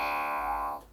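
A sustained low note from the Harminator, a prototype wind instrument, shifted down two octaves, buzzy and harmonically dense, holding steadily for under a second before cutting off, with no other sounds.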